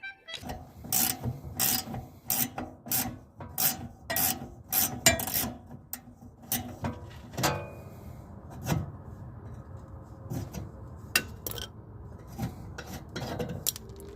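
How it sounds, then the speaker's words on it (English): Ratcheting wrench cranking loose the fuel tank strap nuts on a 1997–2001 Jeep Cherokee XJ during a 23-gallon ZJ tank swap: bursts of quick clicking strokes, close and fairly loud, easing into quieter, scattered rubbing and clanks. "start loosening the nuts on the straps. There's going to be a lot of cranking here, so as mentioned earlier, a ratcheting wrench is very helpful"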